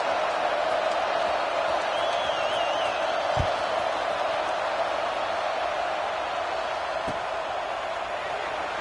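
Stadium crowd from a college football video game, a steady, broad roar of murmuring fans that holds at an even level throughout, with no clear cheers or spoken words.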